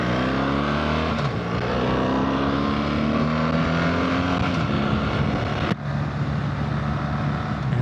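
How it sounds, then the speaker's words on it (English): A motorcycle is shifted into gear and pulls away from a traffic light, its engine rising steadily in pitch through the gears with a brief dip at a shift, loud and close, with steady wind rush and no talking. "Light changes, I put the bike back into gear, and I pull away."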